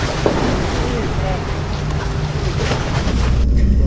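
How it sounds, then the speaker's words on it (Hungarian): Rough, stormy sea off the island of Panarea, with waves surging and heavy wind buffeting the microphone in a constant loud roar. "hát amint látszik elég morgós a tenger"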